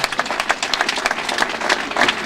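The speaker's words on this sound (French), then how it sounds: "je vous demande encore d'applaudir très fort pour notre presse" An audience at a political gathering applauds steadily throughout, a dense wash of many hands clapping at once, fairly loud and continuous with no voices on top.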